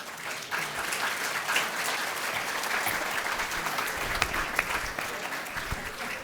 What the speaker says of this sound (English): Thank you for giving a round of applause to our panel members this evening.